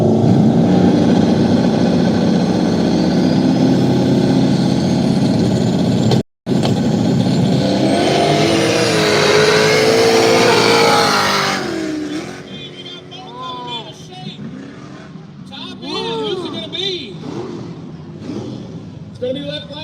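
Nitrous-equipped pickup truck at a drag race, engine roaring loud and steady for about twelve seconds with a brief cut, then fading into distant crowd and announcer chatter.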